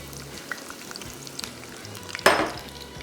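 Onions frying in hot oil, a soft crackling sizzle with light clinks, then a sudden loud hiss as the onions hit the oil that fades over the last second, close with no speech.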